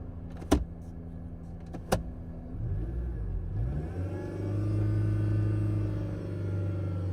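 A faulty new air compressor makes a steady mechanical drone that settles into a sustained low howl after a couple of sharp knocks, wavering briefly before holding loud and continuous.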